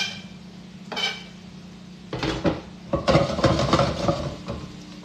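Garlic is stirred in a wok with metal utensils scraping and clattering against the pan, the scrapes bunching together and growing busier over a faint low sizzle.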